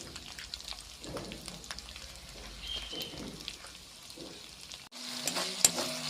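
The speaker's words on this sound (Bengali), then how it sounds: "মশলা ভাজা হয়ে গেছে। মশলা থেকে তেল ছেড়ে দিয়েছে।" Dry red chilies, bay leaves, ginger and cumin paste, turmeric and salt frying in oil in a pan, a soft, crackling sizzle with light stirring, close but faint, turning brighter and louder near the end.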